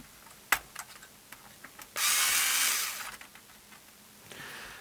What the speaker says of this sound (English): Let's get the electric screwdriver out.